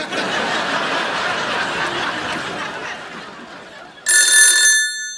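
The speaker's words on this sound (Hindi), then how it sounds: "एक मिनट रुको, मैं फोन लगाता हूँ।" A continuous murmur of background noise gives way near the end to a loud, close electronic ring tone lasting about a second.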